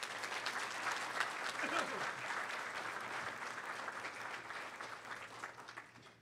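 Sustained applause from an audience at a county Teachers of the Year awards event, a dense steady wash of many hands clapping for about six seconds with a faint crowd murmur beneath.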